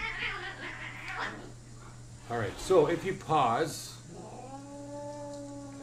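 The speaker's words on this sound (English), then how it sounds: "That's my cat scrapping in the background." House cats scrapping in the background, with a few wavering yowls and caterwauls bunched in the middle, heard beneath someone talking over a quiet, humming game soundtrack.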